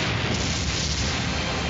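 A dense, roaring blast of noise fills the moment, a steady booming cartoon explosion that holds at full strength throughout.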